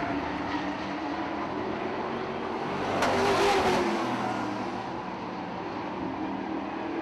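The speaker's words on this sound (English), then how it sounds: "Sierra Furia in the 37 car out in front" Modified race cars roar around the Lakeport Speedway oval in a main event. The steady, loud engine drone swells to a peak midway as the pack passes close, then settles back.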